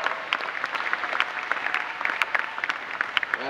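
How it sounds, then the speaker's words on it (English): An audience at a Luther College event breaks into warm, sustained applause, with dense hand claps that continue steadily for a few seconds and no voices heard. "Let's give him a round of applause."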